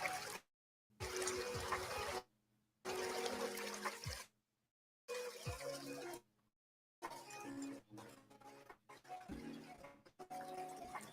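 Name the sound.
running water like a river in Spirit City video game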